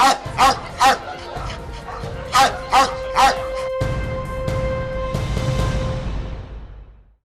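Dogs at an animal shelter bark and yip in a run of loud, repeated bursts, then a noisy stretch of movement and background clatter that fades out at the end.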